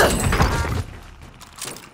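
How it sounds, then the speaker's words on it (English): A Nebula 5 bomb detonates in the distance in Call of Duty: Modern Warfare, a broad rumbling blast with a shattering edge that fades after under a second, followed by faint lingering rumble and a small later thump. "Nebula 5 bomb detonated in the distance"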